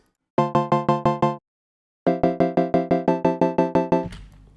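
Bright synth pluck from a Serum analog wavetable patch pushed toward its harmonic-rich end, playing a quick run of evenly spaced staccato notes, a short pause, then a longer repeated pattern ending in a noisy tail; loud and alone.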